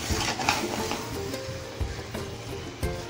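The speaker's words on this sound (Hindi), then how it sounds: "सारी चीज़ों को अच्छे से मिक्स कर देंगे" Liver and fresh lemon juice being mixed in a pot for pulao, with a soft continuous sizzle and intermittent spoon scrapes and knocks against the metal, close and without talk.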